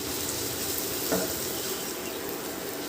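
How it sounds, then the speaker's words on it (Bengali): Onion, ginger and garlic frying in hot oil for a dhaba-style egg curry: a continuous close sizzle with one brief clink or scrape of a spoon against the pan midway, no voices. "আদা রসুনটা দিয়েও পেঁয়াজের সাথে ভালো করে একটু ভেজে নেব"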